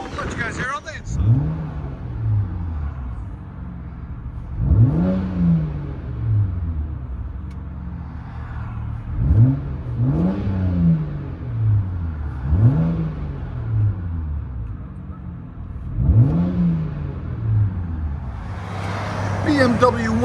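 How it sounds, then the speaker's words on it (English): Cabin view of a BMW 135i 3.0L inline-six with straight pipes and a double tip, blipped repeatedly: about six rhythmic rev swells spaced a few seconds apart over a low droning idle, muffled slightly by the car interior. "Fully straight pipe, other than the catalytic converters, with a double tip."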